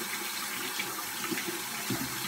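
Water runs steadily from a tap as a makeup brush is rinsed under it, a continuous close hiss and splash with small irregular spatters.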